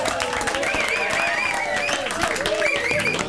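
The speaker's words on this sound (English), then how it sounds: "Give him a round of applause," Audience applause on a television show, dense clapping over steady music with tonal melodic lines running underneath throughout.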